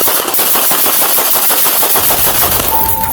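Rapid bursts of gunfire crackle in a dense, continuous stream in a residential area of Raleigh, North Carolina, at night, loud and close, with sharp repeated reports running for about three seconds.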